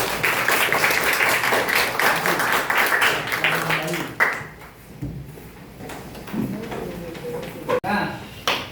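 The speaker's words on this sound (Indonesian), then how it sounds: "Oke, beri aplaus." Classroom applause from seventh-grade students at a junior high school, a dense burst of clapping for several seconds that fades out, followed by quieter room noise and a teacher's voice.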